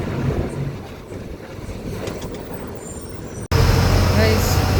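A TNSTC state transport bus running from Nagercoil to Kulasekarapattinam, its steady engine drone and road rumble heard from inside the cabin, growing louder near the end, with talk over it.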